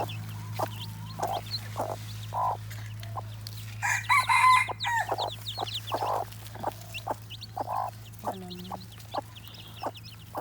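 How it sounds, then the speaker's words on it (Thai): Young wild jungle fowl chicks peep and chirp in quick, scattered bursts over a low steady hum, with a few clucking notes mixed in. "โอ้ลูกไก่ลูกไก่"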